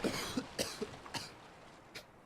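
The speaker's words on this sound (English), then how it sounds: "If you leave it too long, your character like coughs" A game character in Subnautica coughs several times in short, irregular bursts from running low on oxygen, fairly quiet, with no talking.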